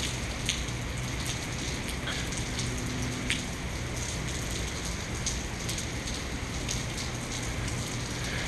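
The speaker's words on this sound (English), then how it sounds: "the rain really started coming down" Steady heavy rain pours down for the whole stretch, a dense hiss with scattered sharper drops ticking on a surface.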